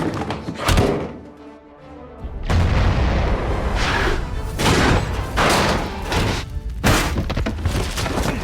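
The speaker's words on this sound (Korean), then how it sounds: "특히 인상적이었던 장면은 이 핵무기 실험 장면." A nuclear bomb test explosion from an Indiana Jones film scene: heavy booms and deep thuds in loud, rumbling waves, with a brief lull before a sustained roaring blast.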